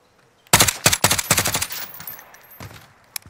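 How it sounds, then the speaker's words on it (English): Rapid automatic gunfire in Call of Duty: Warzone comes as a loud, close burst of about half a dozen shots, followed by a couple of scattered, fainter shots after a short pause. "I'm shooting them."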